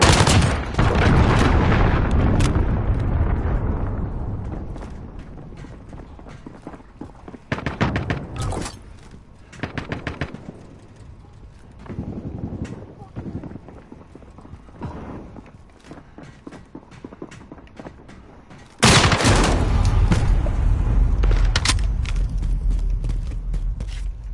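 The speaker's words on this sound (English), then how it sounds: "Enemy cruise missile incoming." A cruise missile strike lands in the Modern Warfare video game: a loud, roaring blast opens the clip, followed by scattered gunfire bursts and thuds, then a second heavy explosion rumbles in near the end.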